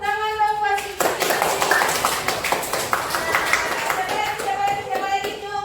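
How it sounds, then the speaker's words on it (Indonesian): Classroom clapping for a student rises from about one second and continues steadily, a dense patter of many hands under children's voices and chatter in a school setting. "Tepuk tangan dong buat Cindy"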